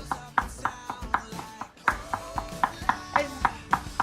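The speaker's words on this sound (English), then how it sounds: "So the raw garlic, you really want to make sure that you chop very fine" A knife chops raw garlic finely on a cutting board, with about a dozen crisp, evenly spaced strikes close up, quickening slightly toward the end.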